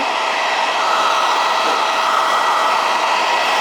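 A hair dryer runs close by with a loud, constant whooshing roar that holds steady throughout.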